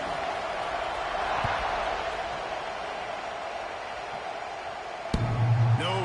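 A stadium crowd in a college football video game gives off a continuous, even roar after a score, a dense wash of noise that swells slightly with a dull thump near the end.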